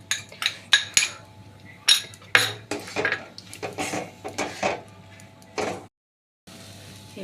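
A spoon stirring carrot sandesh mixture with milk in a pan over low heat, giving a series of close, irregular metallic scrapes and clinks with a short silent break near the end.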